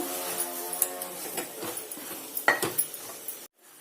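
Okra and eggplant pieces stirred in a metal pot for a mixed vegetable pulusu, with scattered scraping and clinking of the spoon against the pot before it falls silent at the end.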